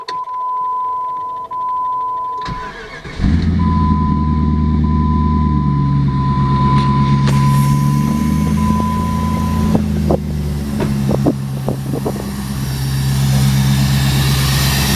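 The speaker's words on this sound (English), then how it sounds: "I guess I can fire it up so you guys can hear it if you want" A 2001 Jeep WJ with a dual air filter intake: a steady electronic chime tone sounds first, then the engine cranks and catches. It settles into a loud, even idle with a few brief clicks and knocks over the running engine.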